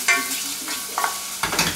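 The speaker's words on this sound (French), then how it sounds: "Je fais revenir sans coloration, ce qu'on appelle sans coloration." Lardons and spinach sauté in a pan without browning, giving a soft sizzle broken by a few short scraping stirs, close and fairly quiet.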